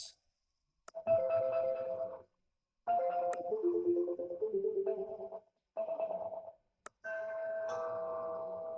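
A melodic electronic ringtone from a Grandstream GRP260X IP phone plays in short tonal phrases separated by brief silences, with a few clicks between them.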